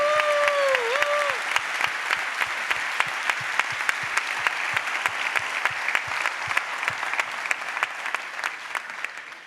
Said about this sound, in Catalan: feu-li un aplaudiment, sisplau